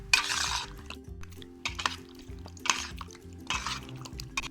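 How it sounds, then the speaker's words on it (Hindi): Chicken being mixed with homemade spices for restaurant-style chicken tikka dum biryani, heard as repeated bursts of scraping and clinking from a spoon against the pot, in uneven strokes with short pauses, close and fairly clear. "इसको हम अच्छे से मिक्स कर लेते हैं।"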